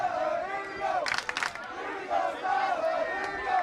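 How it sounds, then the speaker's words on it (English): Parents in a crowd at a boys soccer game cheer and shout together, a loud mass of voices with a brief burst of clapping in the middle, close and lively. "That's good old-fashioned positive cheering."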